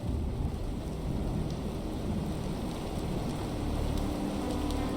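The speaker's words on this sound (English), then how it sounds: "Oh yay, it's raining! I love rain." Steady rain with a low, continuous rumble of thunder in the video game In Sound Mind, heard as a constant loud wash with no talk.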